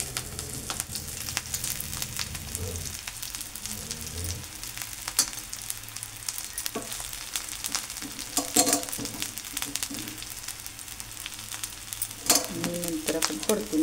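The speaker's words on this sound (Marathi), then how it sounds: "नंतर आपण परतून घ्यायची" Gram leaves (harbhara bhaji) fry in a pan with a continuous close sizzle, broken by repeated scraping and clinking as they are stirred, with faint talk in places.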